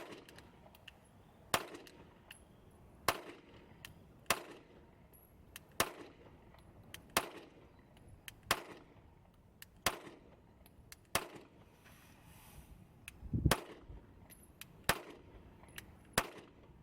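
Pistol shots from a Taurus PT111 G2 Millennium fired at a steady pace, about a dozen sharp, fairly distant cracks spaced one to two seconds apart with quiet gaps between.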